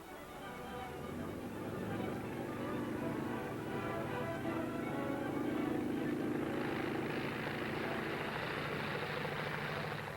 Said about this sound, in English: There goes the bomber, gentlemen, with no pilot to guide her